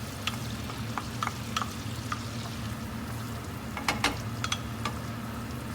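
Chopped onions fry in a generous amount of butter in a pan, a soft continuous sizzle with scattered faint crackles and pops, heard close and alone.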